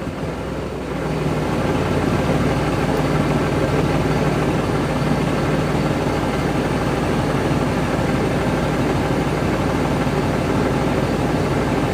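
A 2006 Cummins diesel engine idles steadily with injector four shut off, a continuous low rumbling drone that holds even and loud after a brief quieter start, with no talking.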